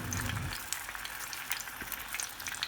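Garlic-ginger paste fries lightly in oil, giving a short, close, continuous hiss with faint crackles and no voices.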